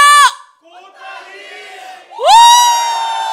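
A large crowd at a public-sector union event shouts loud, drawn-out chant cries in unison, one short burst, a brief murmuring lull, then a long sustained roar close by.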